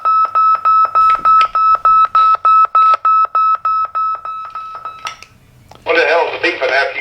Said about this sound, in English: What the hell is the beeping after you quit talking about doing that?